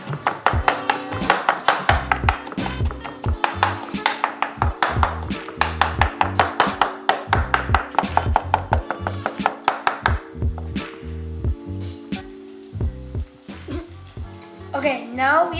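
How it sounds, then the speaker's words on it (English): A knife finely chopping fresh parsley for shrimp risotto on a cutting board: a fast, steady run of crisp, close taps, slowing and thinning toward the end, with a faint sizzle of cooking beneath. "Now we have to finely chop this parsley to put on top of the risotto."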